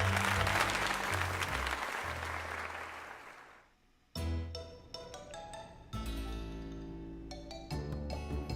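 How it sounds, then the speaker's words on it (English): Applause in the video game Pokémon Legends Z-A, a burst of game-crowd clapping that fades out, then gives way to bright chiming musical tones and jingles. "let us give another heartfelt round of applause to Mog"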